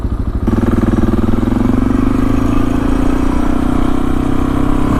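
A Suzuki DR650 motorcycle engine with a slip-on exhaust and upgraded air filter idles and then revs, its throaty, loud exhaust note rising and holding steady, recorded up close.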